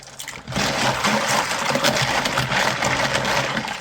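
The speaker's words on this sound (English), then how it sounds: "swishing them around in the water with my hands" Computer keyboard keycaps swished by hand through soapy water in a basin, a steady loud watery churning and sloshing that continues without a break.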